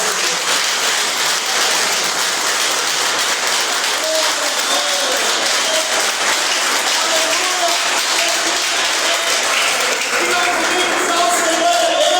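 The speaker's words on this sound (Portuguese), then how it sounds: "Vamos dar uma salva de palmas." A Methodist church congregation gives a long, steady round of applause during a Sunday service, dense and even throughout, with faint voices mixed in.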